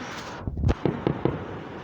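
Fireworks on the night of July 3rd popping in a short cluster of four or five thuds and cracks, moderately distant, with no talk.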